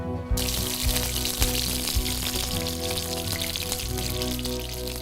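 Steady crackling sizzle of goose breast frying skin-side in its own rendered fat in a dry hot pan, close and continuous, with music playing underneath.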